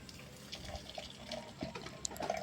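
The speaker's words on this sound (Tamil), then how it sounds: "அப்படியே நான் சாப்பாட்டு வேலையை போடுறதுக்காக அரிசி கழுவிட்டு இருந்தேன்." Rice is washed in water in a home kitchen, with soft close sloshing, swishing and small splashes in short irregular bursts.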